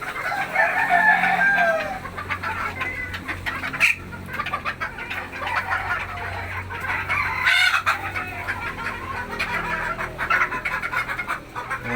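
Chickens cluck steadily in a small backyard coop with white hens, while a rooster crows loudly a couple of times over the continuous flock chatter, close by.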